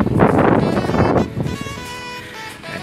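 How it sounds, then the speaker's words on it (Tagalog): Loud, blustery wind buffets the microphone at a rooftop pigeon loft in a heavy roar that eases after a second, leaving a steadier rushing gust underneath. "Sobrang lakas nga ng hangin mga kalapatids."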